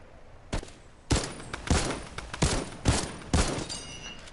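Shooter video game gunfire: about six loud, close shots in a quick uneven sequence, each sharp crack followed by a brief rumbling tail, with no talking over it.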